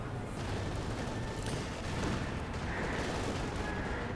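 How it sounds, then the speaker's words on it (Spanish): A cannon shot and blast in the Company of Heroes 2 video game, part of a dense, continuous battle din with rumbling booms and crackling gunfire throughout. "Como podéis ver, un cañonazo,"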